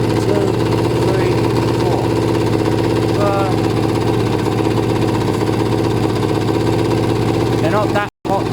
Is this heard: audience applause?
no